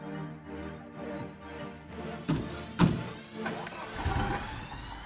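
A car door thunks shut twice, then an engine starts and hums steadily as the vehicle begins to move, close by.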